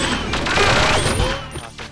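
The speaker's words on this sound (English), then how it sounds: "Rapid fire." Rapid-fire gunshots from a weapon in the video game Perfect Dark ring out as a dense, loud, continuous burst of shots, thinning toward the end.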